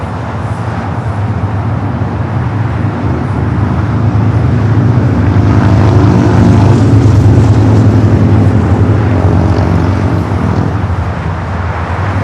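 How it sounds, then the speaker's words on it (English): An Emirates Airbus A380 jet airliner passing by at Los Angeles airport, a steady, loud low roar that swells slightly through the middle and holds without pause. "It looks like Emirates heading here to the south side."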